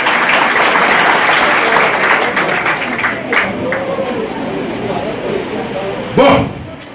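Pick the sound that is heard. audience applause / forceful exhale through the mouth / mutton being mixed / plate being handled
audience applause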